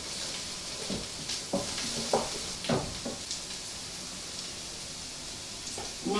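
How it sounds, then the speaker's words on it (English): Garlic sizzles and fries in a cottage pie mince mixture in a pan, a steady close hiss with occasional sharper crackles and spoon stirs throughout. "We're now going to add our garlic to our mixture and let it cook for about a minute."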